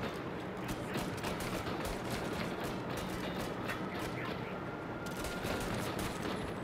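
Enemy gunfire in a video game: dense, continuous automatic bursts and rattling shots fill the whole stretch at a steady, loud level.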